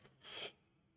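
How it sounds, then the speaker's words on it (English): A single short, breathy cough-like burst close to the mic, followed by quiet. "I apologize for continually coughing into the mic."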